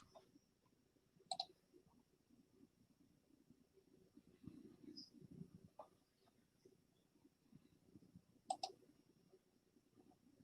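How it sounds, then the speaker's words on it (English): Faint mouse-like clicking picked up on a livestream connection, with two sharper clicks several seconds apart over a low, muffled background murmur. "I hear you clicking, that's it."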